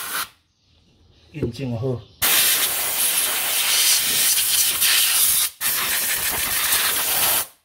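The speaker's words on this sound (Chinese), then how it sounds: "为了干净起见，喷一下" Cleaner sprays onto an old Honda Dio AF18 scooter brake master cylinder during repair, a loud continuous hiss lasting several seconds, briefly interrupted once, after a short spoken remark.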